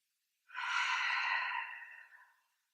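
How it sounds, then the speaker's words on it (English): A single long, deep exhale of breath during a Pilates stretch in child's pose, close and breathy, swelling then fading over about two seconds with no talk. "Big deep breath."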